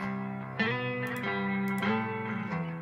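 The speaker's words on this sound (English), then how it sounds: "That's such a nice like reverb, spring reverb added there." Electric guitar played through a short, wobbly spring reverb, with ringing sustained chords and a few picked changes, the tail shimmering briefly after each attack; heard alone, fairly quiet.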